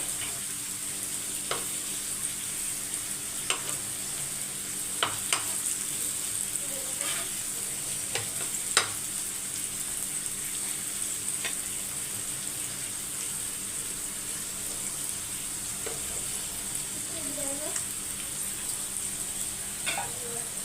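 Onions sautéing in a pan with ginger-garlic paste, a soft continuous sizzle broken by occasional sharp ticks and clinks of a spoon against the pan.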